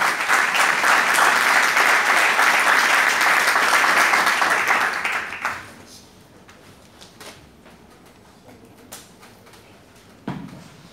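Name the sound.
audience applause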